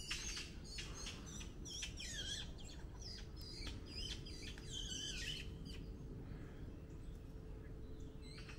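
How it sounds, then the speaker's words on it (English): Faint, busy chirps and squawks from several birds overlapping in quick bursts, set against a steady low background rumble. "Battling birds."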